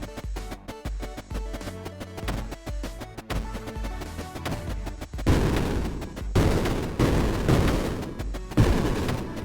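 Bombs fire in the video game Creeper World IXE as a rapid sequence of sharp popping shots, followed by heavier, louder rumbling blasts in repeated bursts.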